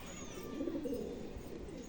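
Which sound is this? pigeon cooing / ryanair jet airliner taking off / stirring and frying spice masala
pigeon cooing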